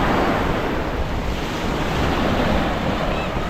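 Sea waves wash continuously onto the shore at a tropical beach resort, a steady close rush of surf with wind noise buffeting the microphone, no voices.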